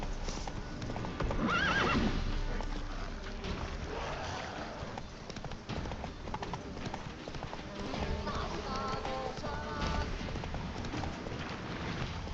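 A horse gallops in The Witcher 3 with rapid, rhythmic hoofbeats and a neigh early on, over game ambience and music, while a player talks.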